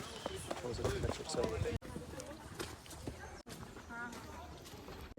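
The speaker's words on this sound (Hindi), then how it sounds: "तो घोड़ा लगा है." Horse hooves clop along a forest trek trail near Jalori Pass, a run of uneven knocks and scuffs mixed with people chatting nearby.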